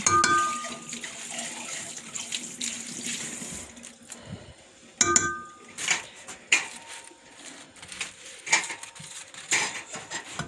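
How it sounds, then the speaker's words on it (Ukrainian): Wet scraping and scooping of a spoon against soft pumpkin flesh in a pot, with irregular clinks and rustles, close by and fairly quiet. "Отак, згрібаю його ложкою."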